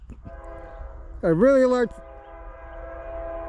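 A CSX M404 freight train, hammered down eastbound on track 2, sounds one loud, clear horn blast of about half a second over its steady rumble, with brief speech just before.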